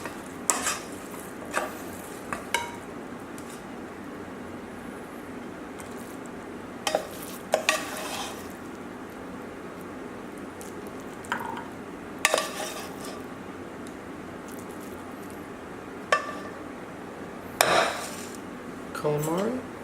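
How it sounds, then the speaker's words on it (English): Baked calamari is plated, with scattered clinks and scrapes of utensils against dishes over a faint background sizzle, the sharp knocks coming in irregular bursts. "I'm going to plate the dish now."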